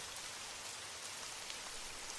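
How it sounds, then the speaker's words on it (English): Steady rain pattering against a window on a cool evening in Paris, a soft continuous hiss of drops with no other sounds. "the cool rain still tapping against the window"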